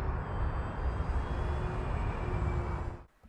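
FMS F4U Corsair 1700mm RC model plane running its electric motor at full throttle on a 5000 mAh battery, a steady loud whine with propeller roar held throughout, cutting off abruptly at the end.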